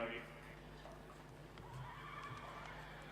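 A campdraft competition horse whinnies near the start, its neigh rising over a steady arena background with hoof clip-clop, while a commentator talks throughout.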